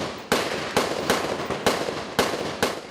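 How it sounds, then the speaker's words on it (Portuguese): Gunshots fired during a police confrontation in Brazil: six sharp, loud cracks spaced roughly half a second apart, each with a short echoing decay, and no voices over them. "Tiros foram disparados."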